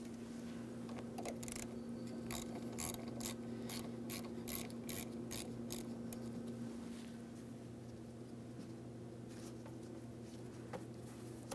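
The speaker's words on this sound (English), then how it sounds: "you're going to loosen your 10mm mounting hardware, just enough that you can remove the terminal end from the battery post" Ratchet clicking as a 10mm battery terminal nut is loosened on a 2007-2014 Ford Edge, a run of sharp, evenly spaced clicks close by over a steady low hum, fading to quieter background toward the end.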